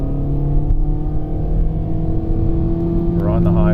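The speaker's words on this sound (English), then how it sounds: "We'll go wide open throttle right now." A 2016 Kia Soul with a 2.0L engine, suffering a loss of power, holds at wide open throttle on the highway with a loud, steady droning hum from inside the cabin, while a voice speaks briefly near the end.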